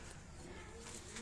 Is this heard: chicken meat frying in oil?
no